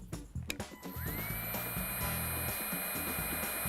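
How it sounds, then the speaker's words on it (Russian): A steady electric heat gun blows with a continuous whirring hiss while heating a plastic drip irrigation tube, joined partway through by a rising high whine, with faint clicks and handling noises. "Смотрим дальше. Мы греем феном."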